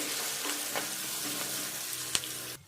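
Onion, turmeric and curry leaves sizzling in a pan for a dried prawn curry, stirred with a few scraping strokes and a sharp utensil knock before the sound cuts off abruptly.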